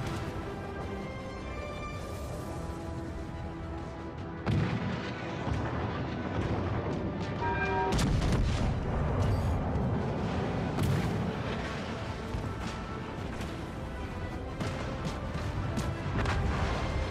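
In the World of Warships Legends naval game, a battleship's big guns fire with heavy booming blasts, a sharp salvo about halfway through followed by a sustained loud rumbling roar, close and with no talk over it.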